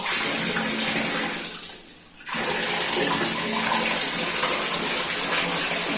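Water gushes from a bath tap as a loud, steady close rush, briefly dipping once before it keeps pouring, with no talk.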